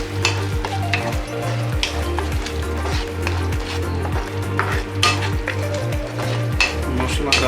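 Prawn curry spices and red chili powder fry and sizzle steadily in a pan, stirred in a regular back-and-forth rhythm with repeated scraping strokes, close and fairly loud, no talk.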